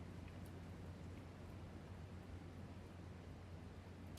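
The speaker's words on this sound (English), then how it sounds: "I don't know if you can hear that, but it's raining real hard outside." Heavy rain falls steadily outside as a dense, even hiss, faint and continuous throughout with no voices.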